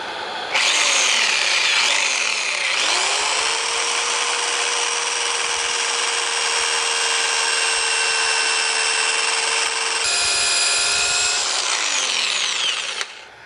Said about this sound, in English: Sanding the back side of the bowl here